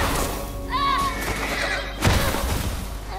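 A horse whinnies loudly and close in The Last of Us Part II, a shrill, wavering neigh followed by a heavy thud, amid game sound.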